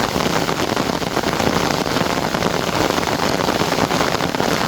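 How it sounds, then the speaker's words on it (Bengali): Heavy rain pours steadily over a lychee orchard, a dense, loud, unbroken hiss and patter close by, as if drumming on an umbrella overhead, with no talk. "বৃষ্টির সময় বাগানের কি অবস্থা হয় দেখুন।"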